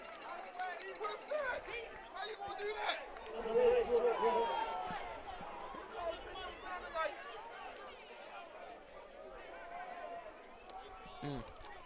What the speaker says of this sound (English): Sounds like Concordia's crowd and coaches are not very happy with that late call.